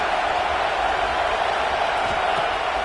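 Stadium crowd in the NCAA 26 college football video game, a steady broad roar of cheering fans that fills the whole stretch at even loudness.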